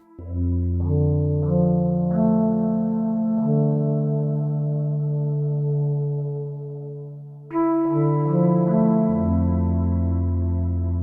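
Lush Dreadbox RainDrops synthesizer chords with an OP-1 Field, held and shifting slowly, washed in reverb and echo that let the notes ring into each other, with a brief dip before swelling again.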